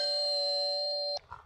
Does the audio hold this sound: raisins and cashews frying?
no